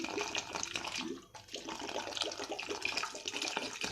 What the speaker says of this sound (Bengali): এবার এর মধ্যে একটু জল দেবো